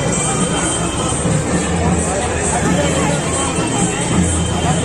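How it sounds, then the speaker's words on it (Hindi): Thick, unbroken murmur of a big crowd at a Saraswati Puja gathering in Paschim Medinipur, countless voices merging into a constant roar at fairly close range. "सो गाइस आप लोग भीड़ देखो, बहुत ही ज़्यादा भीड़ है।"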